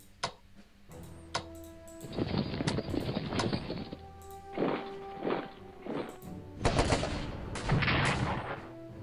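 Scattered rifle shots and short bursts crack irregularly across a World War I battlefield in a video game. Some reports land close and loud, others are fainter, with brief gaps and sharp ticks between the volleys.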